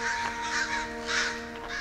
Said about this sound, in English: Oh, because of the crows.